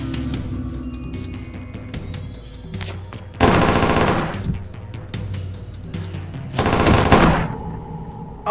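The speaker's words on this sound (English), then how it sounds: "Out of nowhere with the Gatling gun." A Gatling gun fires in a video game in two long, loud rattling bursts, separated by quieter game sounds.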